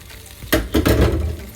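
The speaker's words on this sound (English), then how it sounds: "as you are frying, you're going to make sure the sausages has a little hole in them" Arnold's beef sausages frying in oil in a pan, a close sizzle with a couple of sudden louder bursts and scrapes as they are moved.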